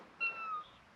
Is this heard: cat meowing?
yes